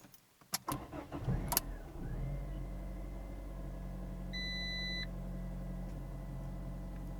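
A Fiat Panda 100HP engine cranks with a few rough bursts and catches, then settles into a steady idle while a warning beep sounds for about a second partway through.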